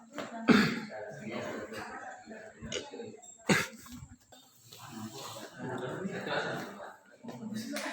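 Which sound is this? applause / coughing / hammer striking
coughing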